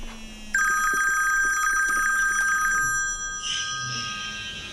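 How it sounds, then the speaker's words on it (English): A phone rings with an incoming call, a loud electronic ringtone of bright sustained tones for several seconds before fading into softer background noise, with no talking. "I'm going to give you a phone call, but don't answer it."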